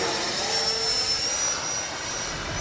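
Freewing 90mm F-15C RC jet with its ducted-fan engine making a steady, loud whooshing roar on a low gear-down pass, a thin high whine running through it for the full few seconds, with no voices.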